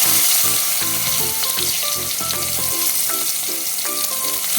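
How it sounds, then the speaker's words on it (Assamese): Chopped onions frying in the oil left over from frying eggs, a steady loud sizzle with scattered stirring clatter and tonal pan clinks throughout, no voices. "ডিমকেইটা তেলৰ পৰা উলিয়াই ল'ম আৰু সেই তেলতে দি দিম কাটি থোৱা পিঁয়াজ"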